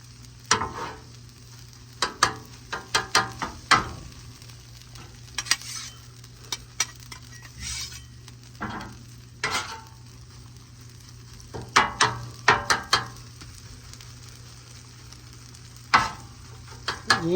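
Rice stir-fried with soy sauce and sesame oil in a pan for teriyaki chicken fried rice: a steady low sizzle under repeated sharp scrapes and clacks of a utensil stirring, in irregular bursts, close and fairly quiet.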